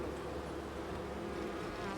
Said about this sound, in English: there's so many sticky bees all around